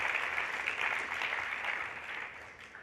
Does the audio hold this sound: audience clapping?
yes